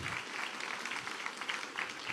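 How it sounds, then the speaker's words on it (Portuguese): A church congregation applauds in a continuous, moderately distant wash of clapping with a few sharper individual claps standing out. "Aplauda o nome de Jesus."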